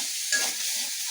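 Bay leaves torn in two drop into hot oil while cooking pigeon meat with potatoes, giving a brief steady hiss of frying with a slight flare as they land.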